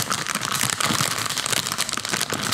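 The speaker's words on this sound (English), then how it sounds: "Why, it's a crinkly plastic bag" A crinkly plastic bag crumpled close up, a dense, continuous crackling rustle that keeps going without a break, loud and alone with no voices.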